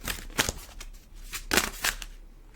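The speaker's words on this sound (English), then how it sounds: "I don't know why these are kind of hard to shuffle right now." Tarot cards being shuffled by hand in short riffling bursts with papery flicks and pauses between them, close and soft, with no talking over them.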